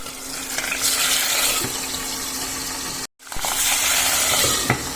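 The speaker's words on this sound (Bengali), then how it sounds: "মাছটা ঢাকা দিয়েই ভাজছি আমি" Fish frying in hot oil in a wok gives a steady, close, dense sizzle. It cuts out abruptly for a moment near the middle, then resumes at the same level with occasional faint clinks. No one speaks.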